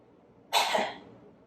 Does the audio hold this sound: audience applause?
no